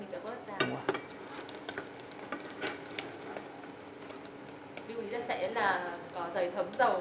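Fried shrimp heads being scooped out of hot cooking oil with a utensil, giving a soft sizzle and light metal clatter under a person talking close by.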